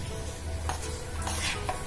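Tempering stirred into vegetable poriyal in a pan, a steady low scraping churn with faint sizzle underneath, continuous and close, a couple of brighter clinks near the end, no talking.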